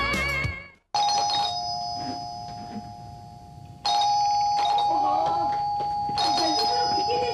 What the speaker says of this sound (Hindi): घंटी बजा रहे, खोलता नहीं क्या?